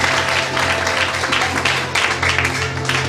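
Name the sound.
church congregation applauding for Jesus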